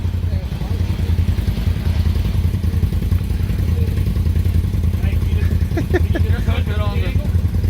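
A Polaris General UTV engine drones loud and close with a steady low rumble while towing on a trail, with people talking over it.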